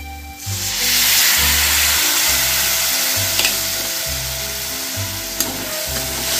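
Water goes into a spinach masala that is sticking in the pan, raising a loud steady sizzle, with a low rhythmic pulsing hum underneath and a couple of sharp stirring knocks.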